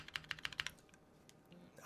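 Keystrokes on a mechanical computer keyboard tap in a quick burst of about eight crisp clicks, then fall quiet apart from a faint stray tap and a brief sound at the end.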